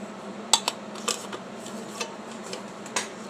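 Metal camping mess kit pots, a lidded pot and collapsible cups clink and knock together in a handful of sharp, close taps spread over a few seconds.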